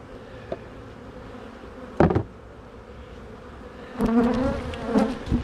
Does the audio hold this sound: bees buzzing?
yes